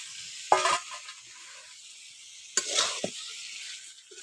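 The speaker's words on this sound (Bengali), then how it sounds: "এখন দিয়ে দিচ্ছি এঁচড় আর আলু।" Fried young jackfruit and potato pieces drop into spices frying in a pan, raising two sharp bursts of sizzling a couple of seconds apart over a low, steady hiss, with no talking.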